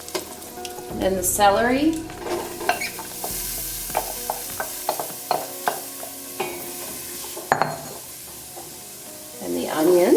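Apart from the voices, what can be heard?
celery and onions sautéing in a pan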